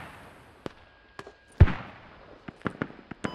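A mortar fires a red smoke round in a tactical multiplayer squad shooter, one heavy thump with a sharp attack among scattered lighter pops and cracks of distant gunfire.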